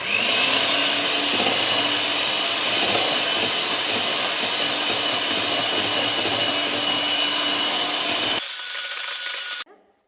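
An electric mixer beats sugar and vanilla essence for a dream cake. It gives a loud, close, continuous whirring drone for about eight seconds, then cuts off abruptly into faint background and silence.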